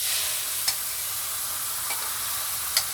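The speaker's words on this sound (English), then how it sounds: "let's go ahead and add our egg in." An egg frying in a pan over lowered heat gives a steady, bright hiss of sizzling fat, continuous and close, with a few faint clicks and pops.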